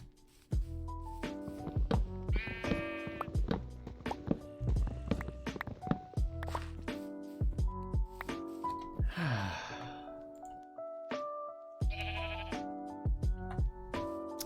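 Sheep bleat repeatedly in the Minecraft video game, several wavering calls in bursts over steady game music, fairly close and clear, with a short breathy rush midway.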